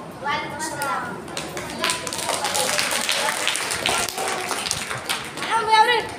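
Children clap in scattered bursts inside a mosque during a small kids' program, the taps and claps mixing with chatter and voices throughout.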